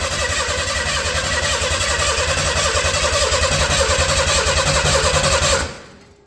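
A Ford 300 inline-six, primed with sprayed gas, catches and runs rough and loud with a pulsing mechanical clatter for several seconds before cutting off abruptly and fading to quiet.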